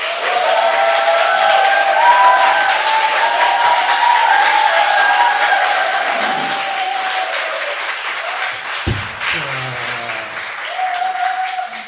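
A studio audience gives loud, sustained applause with some cheering as a political candidate is introduced on a Korean talk show. The applause fades slightly midway, then a voice breaks in over the lingering claps.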